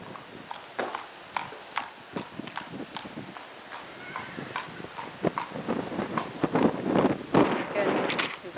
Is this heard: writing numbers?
no